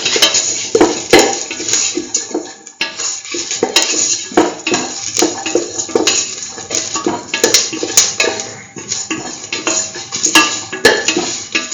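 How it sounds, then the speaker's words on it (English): Red chillies being sautéed in a metal pan for a curried lentil egg rice, with a spatula scraping and clinking against the pan in a busy, irregular rhythm and a faint sizzle underneath, with no voices. "Now put in the red chillies, saut"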